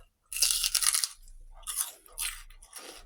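Raw celery, washed, dried and kept chilled in the fridge, gets bitten and chewed close up: a loud crisp crunch followed by several shorter crunching bursts, with no talking.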